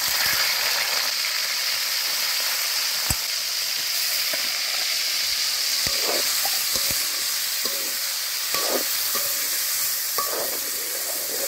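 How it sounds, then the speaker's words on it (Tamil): Marinated shrimp sauté in oil in a pan, giving a steady, bright sizzle with occasional sharp clicks and scrapes from stirring. No one speaks. "நாங்கள் முதல்ல சட்டிக்கு எண்ணெயை ஊற்றுவோம். இந்த ஊற வச்சா இறாலை போடுவோம். முதல்ல கொஞ்சம் வதக்கி எடுக்கணும்."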